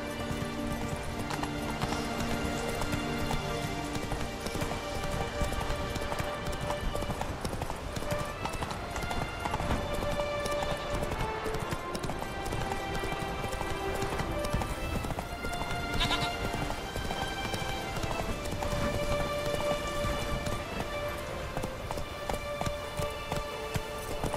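Roach the horse galloping in The Witcher 3 video game, a steady rapid clip-clop of hooves running continuously under a dense bed of game music and ambience, with an occasional whinny.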